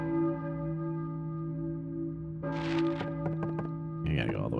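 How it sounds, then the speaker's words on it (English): A church bell tolls in Silent Hill, its long ringing overtones sustaining loudly throughout, with a few sharp knocks and a burst of noise cutting in toward the end. "you hear a bell ringing like that, it's just like mechanical"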